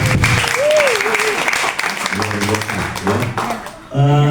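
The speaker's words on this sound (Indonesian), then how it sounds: "Boleh tepuk tangan buat saya." An audience claps at a company reward gathering, a dense burst of applause mixed with voices and a tonal sound, dipping briefly before swelling loud again at the end.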